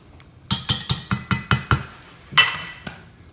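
A metal spoon knocks and scrapes against a pot while bacon and okra creole is stirred, a quick run of about eight clinks in steady rhythm, then a louder scrape and a final tap, close and clear.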